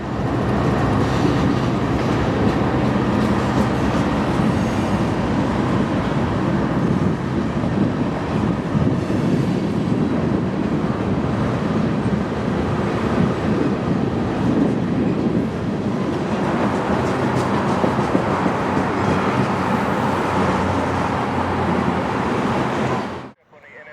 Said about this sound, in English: Manifest 11K arrives on Track 3, bringing the first half of his train into the receiving yard